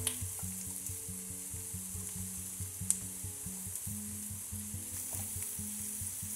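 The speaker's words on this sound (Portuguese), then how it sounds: "Agora eu vou colocando a nossa carne," Beef chuck on the bone frying in a pan with onion and garlic, a steady close sizzle with low rhythmic bubbling and an occasional faint clink of a utensil, no talk.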